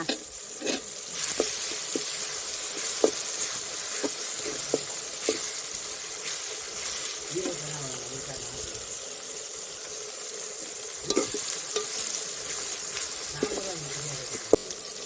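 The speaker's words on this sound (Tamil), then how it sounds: "தக்காளி நல்லா வதங்கிருச்சு" Tomatoes frying in a pan for a country chicken curry, a steady close sizzle with scattered clinks and scrapes of stirring throughout.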